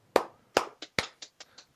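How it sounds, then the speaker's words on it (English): A few sharp hand claps ring out, the first three strong and evenly spaced, then several softer, quicker ones trailing off, close and alone. "Give you a few claps there."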